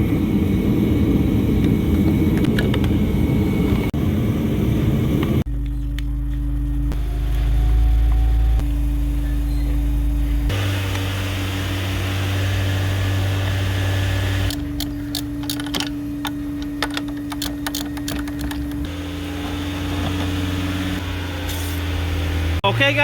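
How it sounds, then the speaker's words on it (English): A car engine idles nearby, a steady low hum and drone that runs throughout and shifts in tone a few times, with intermittent rattles and clanks. "there's a car running on the other side."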